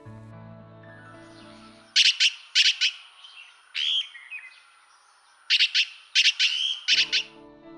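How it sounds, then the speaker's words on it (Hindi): Harsh, loud calls of red-billed blue magpies at a forest edge near fields and villages in Kumaon, arriving in two bursts of several rasping squawks with a brief quieter stretch between, a low hum underneath at start and end. "बिल्ड ब्लू मैगपाई अक्सर छोटे झुंडों में जंगलों के किनारे में सटे हुए खेतों और गांवों के किनारे पर अपनी कर्कश बुलंद आवाज से अपनी ओर ध्यान खींच लेते हैं।"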